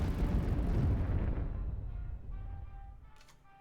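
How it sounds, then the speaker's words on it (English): A heavy bomb blast from a Hurricane aircraft card in KARDS booms right away and rolls on as a deep rumble that slowly fades, followed by faint ringing metallic tones near the end, with no voices. "Now I'm just gonna play a Hurricane and bomb his face."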